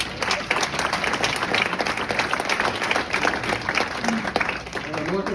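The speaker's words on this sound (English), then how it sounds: "I'm looking for another round of applause" An audience at a basketball hall of fame induction ceremony breaks into sustained applause, dense clapping from a large crowd filling the room steadily throughout, with a voice faintly under it.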